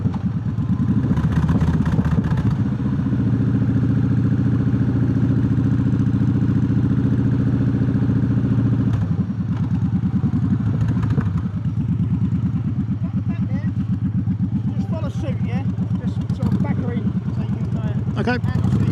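Old Triumph motorcycles idle and rumble nearby at the Distinguished Gentleman's Ride on the Isle of Wight, a steady loud engine drone with clatter throughout, and people talk over it.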